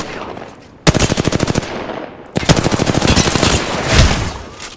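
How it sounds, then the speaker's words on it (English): Enemy automatic weapon fire in the shooter game Apex Legends, with two loud, rapid bursts of evenly spaced shots, the second longer and denser, close and alone without talk. "The enemies are shooting at me."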